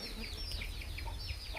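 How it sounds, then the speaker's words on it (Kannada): A country fighting rooster on a farm gives short repeated clucks and calls, fairly close, over steady low rumbling background noise with no talking. "ನೋಡಿ, ಇವನು ಪಂದ್ಯದ ಕೋಳಿ."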